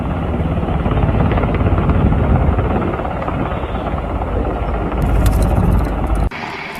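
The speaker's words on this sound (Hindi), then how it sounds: "सामने नजर आ रहा helicopter American made Black Hawk ही है" An American-made Black Hawk helicopter sits on a runway at Kandahar airport, its engine and rotor roaring loud and steady and very close, with no gap in the sound until it drops sharply near the end.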